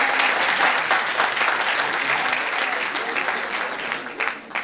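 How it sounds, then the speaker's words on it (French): A university round-table audience gives steady, loud applause, a dense wash of clapping that holds evenly throughout with only slight easing toward the end. "je vous demande s'il vous plaît de l'applaudir très très fort"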